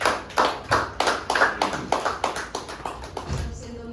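Audience applause at a Hindi literary award event in Mumbai, a run of short crisp claps from a small group, loud and close for about four seconds before fading.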